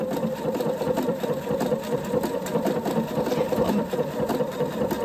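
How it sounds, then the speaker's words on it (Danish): A sewing machine stitches stretch fabric with elastic thread in the upper spool, running at a steady, fast mechanical whir from start to finish, close and alone. "så syr jeg nu med denne her Cerafloktråd i overtråden, som giver de her lidt kraftige, fyldige stikninger"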